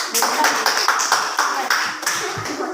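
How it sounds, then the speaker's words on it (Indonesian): A small group claps for the doctor team in a classroom lesson, uneven hand claps close by for a few seconds. "tepuk tangan untuk kelompok dokter"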